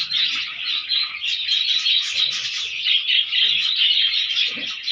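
A yellow breeding pair of pet birds chirps and calls continuously, a dense stream of high twittering that sounds close and fairly loud, with faint low background noises underneath.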